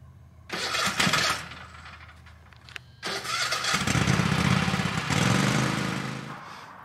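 A Husqvarna small outdoor power engine being pull-started: a couple of sharp cranking bursts, then it catches and runs unevenly, sputtering and surging nearby.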